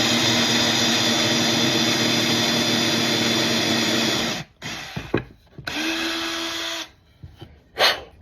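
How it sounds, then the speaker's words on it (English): A drill bores into hard pecan wood while making a cheese slicer board, a loud, steady, dense whir running for about four seconds, then stopping and restarting in shorter bursts with pauses between. "Pecan is so difficult to drill through."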